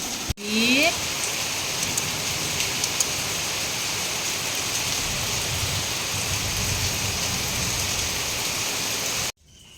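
Steady, dense rainfall hisses continuously for several seconds, loud and close, with no voices, ending abruptly.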